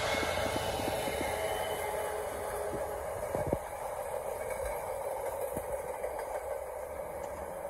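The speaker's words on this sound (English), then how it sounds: "It's our local freight train." A Class 66 freight locomotive, 66011, rumbles past Swinton at a distance, a low steady roar with faint clanks and squeals, no voices.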